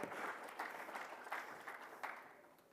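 A crowd claps steadily in continuous, moderately loud applause that swells slightly in waves, with no voices over it.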